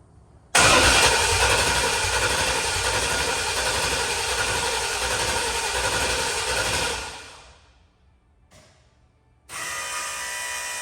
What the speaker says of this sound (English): I'll turn it over with the ignition on first.